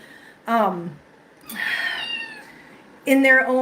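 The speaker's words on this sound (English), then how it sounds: "He just meows all the time." A cat meows loudly three times in quick succession, close by, with drawn-out, wavering cries separated by short pauses.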